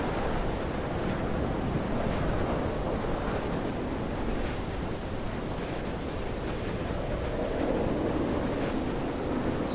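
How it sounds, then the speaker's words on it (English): Steady wind roars across the island in the video game Dear Esther, a constant broadband rush with no pause, loud and close, like gusts mixed with distant surf. "Starting to get windy."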